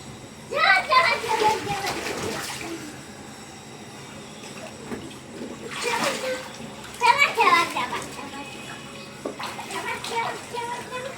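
A small child splashing in water in a bathtub, bursts of sloshing and splashing in two main spells separated by quieter stretches, mixed with a voice and adult talk.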